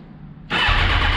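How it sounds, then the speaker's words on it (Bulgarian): A motorcycle engine fires up after a quiet pause and settles straight into a loud, steady running roar as it begins warming up. "Само ще запара мотора да загрее"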